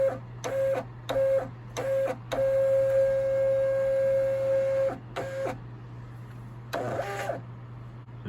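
A thermal label printer runs its calibration with a series of short motorized whirring feeds in a stop-start rhythm, one longer feed run, and a final burst of clicking, all over a steady low electrical hum, close and clear.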